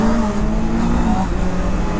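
Engine noise from a Honda CBR 650R motorcycle on the move, loud and near, holding a steady, strained pitch that dips slightly, with wind rush underneath.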